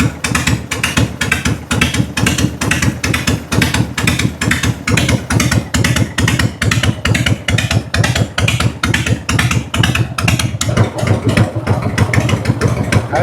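A Harley-Davidson Evo motorcycle engine idles up close while being tuned for a sluggish-running fault, giving a steady, loud, rhythmic lumpy thumping that continues unbroken throughout.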